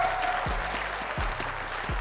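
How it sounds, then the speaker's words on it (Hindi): Cartoon spectators at a flying Olympics race clap and cheer in a steady background of applause, punctuated by regular low thumping beats from a music track underneath. "नीचे खड़े दर्शक तालियों से चिल्लाते हुए खिलाड़ियों का मनोबल बढ़ाते हैं।"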